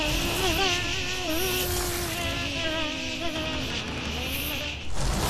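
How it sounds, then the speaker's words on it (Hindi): Cartoon swarm of mosquitoes buzzing loudly and continuously, a whining drone with wavering, overlapping pitches that holds for about five seconds and briefly cuts out near the end. "इसीलिए मैंने आसपास के गांव से सारे मच्छरों को बुलाया है।"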